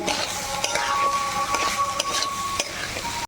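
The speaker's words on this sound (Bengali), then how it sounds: "আর এখানে 1 মিনিটের মতো এই চাল ভেজে নিতে হবে।" Rice frying in oil with turmeric in a pan for pulao: a steady close sizzle with scraping stir strokes and light clinks of a utensil against the pan, no talking.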